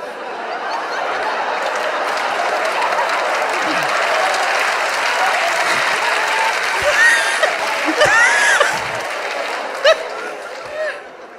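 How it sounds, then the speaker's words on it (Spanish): Studio audience at a comedy talk show breaks into loud, sustained applause, dense clapping with scattered laughter and a few whoops mixed in. "Un fuerte aplauso para ustedes, lo han hecho increíble."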